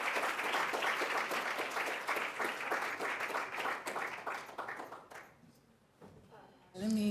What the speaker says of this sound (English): let's round of applause for everybody